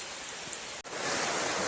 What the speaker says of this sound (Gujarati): તો વરસાદ સારો આવી ગયો છે